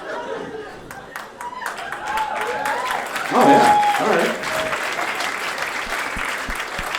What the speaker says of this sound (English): That was a nice unsure slow clap.